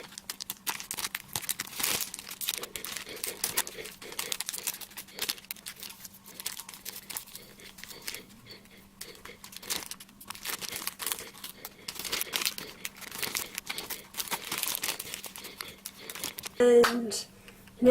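Wax paper crinkles and crackles in a steady stream as homemade Halloween window clings are peeled off it, close and moderately loud, with a louder rustle near the end.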